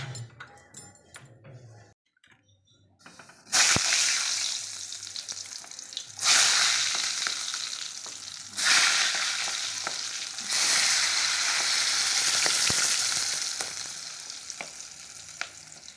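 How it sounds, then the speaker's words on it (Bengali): Brinjal (eggplant) frying in a pan gives a loud, steady sizzle that begins after a few quiet seconds and swells in bursts as pieces go in, with occasional stirring clinks and no talking. "বেগুনটা ভাজছি"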